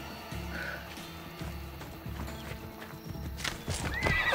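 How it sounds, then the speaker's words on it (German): A summoned horse in Assassin's Creed Odyssey arrives with rhythmic hoof clip-clops, then a loud whinny near the end, all close and clear without speech. "jetzt kann ich nämlich hier mein Pferd rufen"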